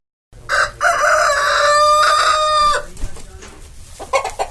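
Chickens and a rooster on a farm, kept alongside goats: one long, loud, close cock-a-doodle-doo crow followed by softer clucking from other hens.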